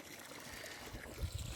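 Water pours and trickles into a container for farm animals, a soft splashing flow heard close by that grows heavier and more gurgling toward the end, with no talk.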